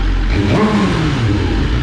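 A high-revving 2024 BMW S1000RR Gen 5 sport motorcycle engine with a loud, raw Akrapovic decat exhaust, steady and close throughout, with pitch sweeping up and down as the throttle is blipped.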